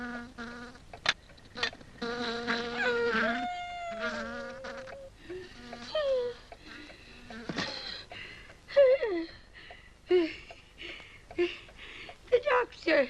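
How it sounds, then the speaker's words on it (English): Bees buzz close by in a sustained, wavering drone with rising and falling tones, mixed with scattered clicks and short noises, with no clear talk over it. "I brought your bees. Oh, me bees, me lovely bees."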